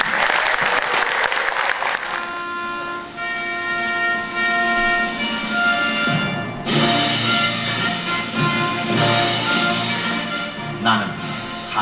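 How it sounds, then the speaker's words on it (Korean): An audience applauds at the opening of the 2025 38th June 10 Democratic Uprising memorial ceremony, a short burst of clapping giving way to sustained instrumental tones with a voice present. "제38주년 60민주 항쟁 기념식을 우리 모두의 큰 박수와 함께 시작하겠습니다"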